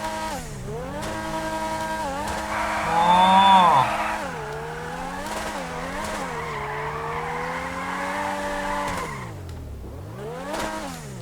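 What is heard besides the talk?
sports car engine revving and skidding, video game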